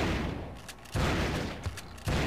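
Shotgun blasts in the Turok video game, a few loud, booming shots spaced about a second apart, close and forceful with no speech.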